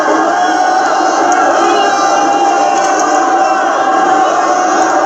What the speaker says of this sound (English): As all the Arabs cheer and praise Allah!